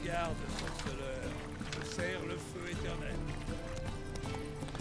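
Roach, the horse in The Witcher 3, trots with rhythmic clip-clop hooves under game music, while a person talks over it throughout.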